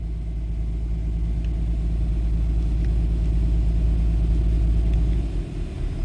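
Truck engine holding a steady fast idle, a continuous loud low rumble that stays even throughout and dips briefly near the end, with no talk over it.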